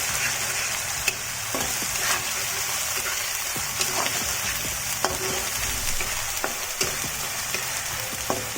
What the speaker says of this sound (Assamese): নৰসিংহ আদা নহৰু পেষ্টটো দি এনেকৈ এতিয়া ভাজি ল'ম অলপ